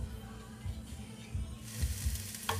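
Mushrooms, spinach, bell peppers, garlic and onions sauté in a pan with a steady, close sizzle that swells louder partway through, with a brief sharper crackle near the end.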